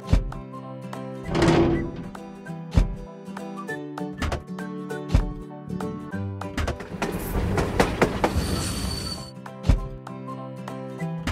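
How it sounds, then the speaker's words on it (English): Sounds from a kids' train-station mobile game as the train arrives: a series of sharp thunks and clicks over steady tonal music, with a brief whooshing hiss near the middle. "The train has arrived."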